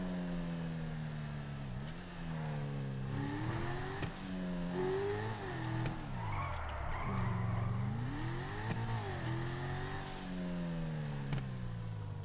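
A car engine drives in the video game GTA 5 on a looping engine sound, revving up and down in repeated wavering sweeps with some tire noise. The engine is continuous and fairly loud, with no talking over it.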